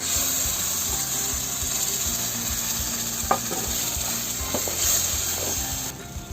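Puréed tomatoes fry with spices in a pan for an aloo matar curry, a continuous close sizzle with a few sharp clicks and scrapes from stirring, and no talking.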